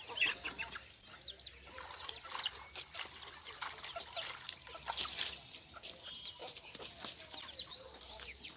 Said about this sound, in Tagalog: Oh, daghanang manok